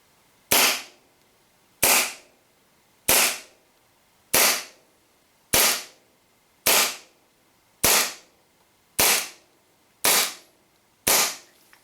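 WE 1911 Desert Warrior gas blowback airsoft pistol firing 0.2 g BBs on green gas, ten sharp cracking shots at an even pace of about one per second, loud and close with quiet gaps.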